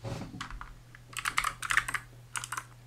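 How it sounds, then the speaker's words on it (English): Typing on a Moonlander keyboard, with quick bursts of key clicks in irregular runs close to the mic over a steady low electrical hum, and no voices. "Moonlander keyboard."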